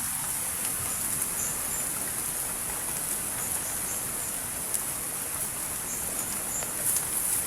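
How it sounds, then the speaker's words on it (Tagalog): Heavy rain pours steadily outdoors, a constant dense hiss of rainfall with no break, and faint high insect-like chirps sitting on top of it. "Grabe, anak, kalakas na ng ulan"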